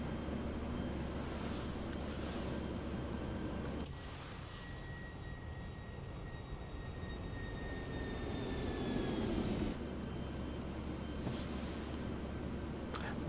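A small aircraft's engine drones steadily in flight over mountains, a continuous close cabin hum with a smooth tonal whine that shifts pitch partway through.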